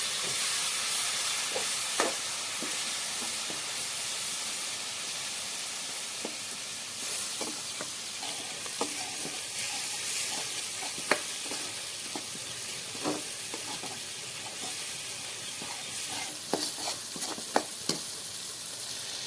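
Onion gravy cooks and is stirred in a pan, sizzling and hissing steadily close up, with scattered scrapes and clicks of the spoon against the metal throughout.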